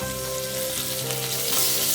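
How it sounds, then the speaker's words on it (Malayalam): Fried okra stirred into spices in a hot pan gives a loud, close, continuous sizzle with scraping stir noises and a faint steady hum beneath. "ഇതിലേക്ക് നമ്മൾ വറുത്ത് വെച്ച വെണ്ടക്ക ചേർത്ത് കൊടുക്കാം."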